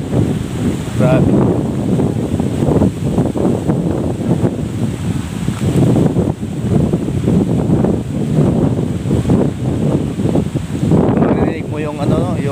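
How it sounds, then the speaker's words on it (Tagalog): Waves crash along a shoreline in a strong northeast monsoon wind, a loud steady roar of surf and gusting wind buffeting the microphone, with someone talking over it at times. "Marinig mo yung yung hagapas ng alon sa Baybayin"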